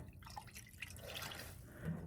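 Water trickles and drips from a tap into a small RV kitchen sink as items are rinsed, a soft continuous patter with no talking.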